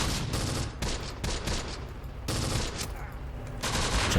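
Gun firing in Close Combat, a tactical war game, with dense bursts of rapid gunfire and short pauses between volleys, loud and close without talk.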